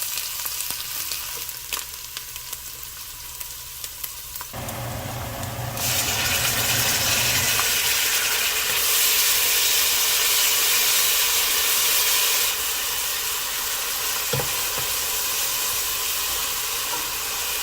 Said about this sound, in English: Now I'm gonna put the garlic. And then let's saute a little bit.